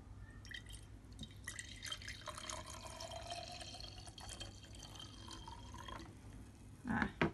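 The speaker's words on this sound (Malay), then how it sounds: "tuang dalam bikar" Water is poured into a laboratory beaker during a primary school science lesson, a faint continuous trickle and drip that swells into louder splashing at the very end.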